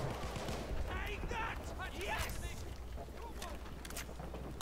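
Battlefield 1 gunfire in a World War I setting, with rapid bursts of shots crackling over a rumbling battlefield while a player talks throughout.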